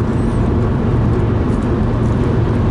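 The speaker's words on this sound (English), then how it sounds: "I'm just going to have to put the air conditioning on" An air conditioning unit runs indoors as a loud, steady broadband whoosh with a low hum underneath, constant and unbroken throughout, with no talk over it.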